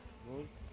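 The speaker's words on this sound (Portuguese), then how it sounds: "Tanto de abelha, certo? Africanizada." Africanized honey bees drone near a wooden hive box on a farm, a brief, faint buzzing hum heard alone.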